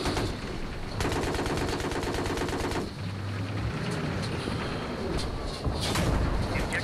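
An HMG heavy machine gun hammers away in Battlefield 3, a rapid, steady stream of loud shots in a couple of long bursts, mixed with rumbling vehicle noise and scattered distant gunfire.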